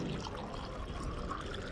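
Hot water being poured, a steady close splashing trickle that runs continuously with no voices.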